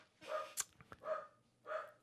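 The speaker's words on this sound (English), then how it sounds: "Love having the dog here." Dog barking in a radio studio: three distinct barks spaced evenly apart, fairly faint and a little distant, with small clicks between them and no talk over them.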